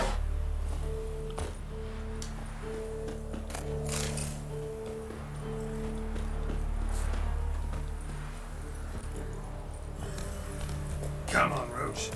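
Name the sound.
horse Roach hooves clip-clopping, from The Witcher video game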